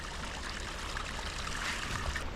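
Runoff water keeps pouring off a logging road at an off-grid homestead, a steady close rushing trickle with no talk over it.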